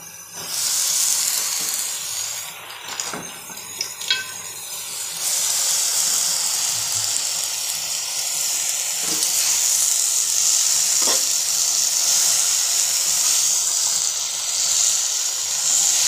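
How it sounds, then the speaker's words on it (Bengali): Malabar spinach hits a hot pan with fish head already cooking, giving a loud, steady sizzle and hiss that lasts throughout, with a few brief stirring clatters near the start. "এখন মনে হচ্ছে মাথাটা রান্না হয়ে গেছে, তাই এখন পুঁই শাকটা দিয়ে দেব।"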